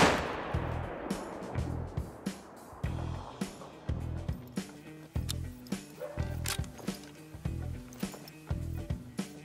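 A rifle fires at a buck in theHunter: Call of the Wild at Layton Lakes, with a sharp shot at the start and then a quieter run of regular clicking and thudding, like rifle handling, repeating through the rest.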